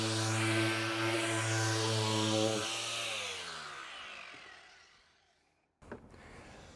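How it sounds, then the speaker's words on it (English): A power sander works on a boat hull during prep for basalt armor, whirring loudly and then winding down in a falling whine to silence. A brief knock and low rumble follow. "Just the last sand to get it ready for this basalt we're going to stick on here."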